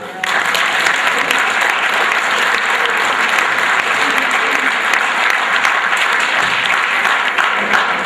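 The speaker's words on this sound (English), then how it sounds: "So I'd just like to give these girls a big round of applause." Loud, dense applause from an audience at a school winter sports awards night fills the room, a steady roar of many hands clapping at once that holds evenly from start to finish.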